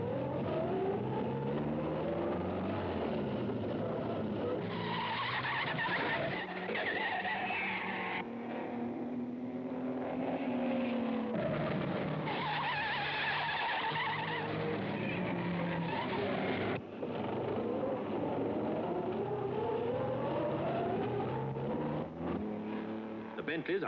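Bentley and Alfa Romeo sports cars racing in an Irish Grand Prix sports car race on a hot day over newly tarred corners; engines drone and roar steadily throughout, with a voice talking over them.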